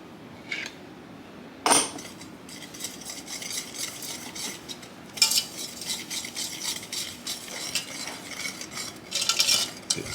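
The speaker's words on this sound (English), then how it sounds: "So now she's going to whisk." Egg yolks and sugar are whisked in a pot for homemade ice cream, the whisk scraping and clinking in quiet, uneven bursts with a few sharper louder strokes.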